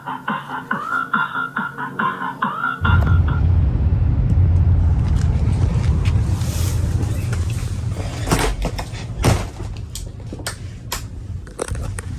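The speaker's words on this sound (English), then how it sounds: "Now I need to drive back to Home Depot" A car engine starts and the vehicle drives off toward Home Depot, a low rumbling drone with road noise and occasional knocks and rattles heard from inside the cabin, following a brief stretch of other sound before it begins.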